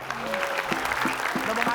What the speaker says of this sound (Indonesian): Oke, boleh tepuk tangannya.